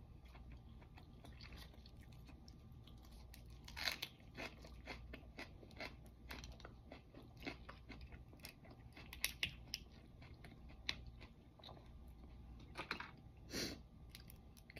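Steamed crab is eaten up close, with soft chewing, cracking and crunchy bites scattered over a quiet background and a few sharper clicks of shell.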